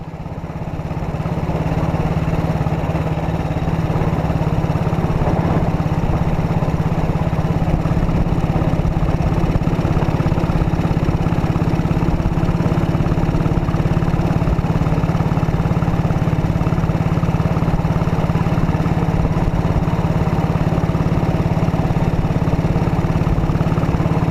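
A 70-year-old Panther Model 100 motorcycle engine runs steadily and close by, a continuous even thrum with no break or change in pace and no talking.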